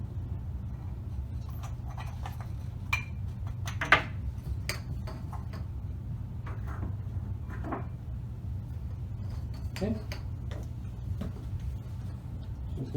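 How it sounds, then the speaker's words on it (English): A spoon works flour into cinnamon roll dough in a bowl, giving scattered faint clicks and soft taps against the bowl over a low steady hum, with no voices. "Just going to stir that up a little bit."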